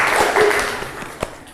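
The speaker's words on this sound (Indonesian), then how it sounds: "beri tepuk tangan untuk Tria" A short burst of classroom applause for a student during an art appreciation lesson, broad and moderately loud at first, then thinning out and fading over under two seconds.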